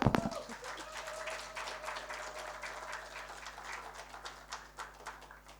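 Audience applause after a talk at a sustainable design expo, a steady wash of many hands clapping at moderate distance with a faint tonal hum underneath, sustained throughout.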